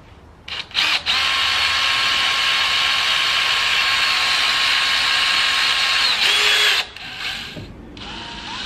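Power drill driving screws into solar panel brackets on a camping trailer roof, a close, loud sustained whir lasting several seconds with brief bursts before and after, ending in a clunk.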